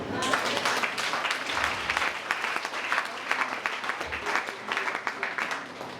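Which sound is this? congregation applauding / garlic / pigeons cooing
congregation applauding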